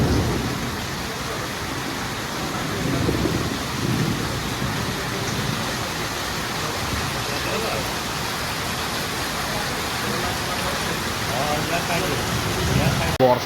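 Heavy rain pours steadily in a windy thunderstorm, a dense, constant roar of water with low rumbles of thunder rolling underneath, and voices faintly audible in the background.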